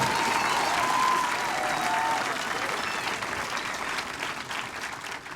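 A graduation ceremony audience in Aberdeen claps and cheers loudly in a large hall, a dense burst of applause with whoops that slowly fades over a few seconds.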